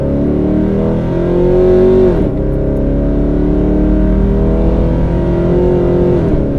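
A modified Pontiac G8 GT with a V8 rumbles loudly nearby, revving with a rising pitch, briefly dropping off, then pulling away under steady throttle with a deep, continuous exhaust drone.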